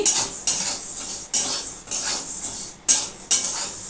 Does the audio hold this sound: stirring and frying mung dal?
yes